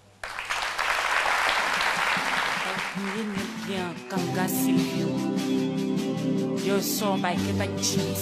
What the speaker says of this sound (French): Accueillons-le avec des applaudissements, s'il vous plaît.